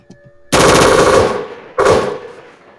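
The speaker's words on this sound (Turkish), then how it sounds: "Böyle bir silahımız var. Çok sesli." A gun in the Roblox game Rolling Thunder fires two loud, close bursts of rapid automatic shots, the first lasting about a second and the second shorter, with no voices.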